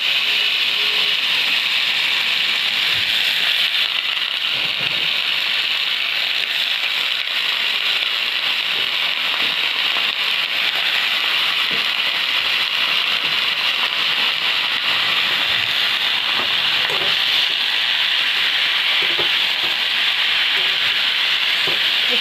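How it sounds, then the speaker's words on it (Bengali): Boiled pumpkin greens go into hot oil with frying dried red chilli and garlic, giving a loud, steady sizzle that lasts throughout, with occasional soft scraping stirs. "এবার আমি এই সিদ্ধ করা শাকটা দিয়ে দিচ্ছি"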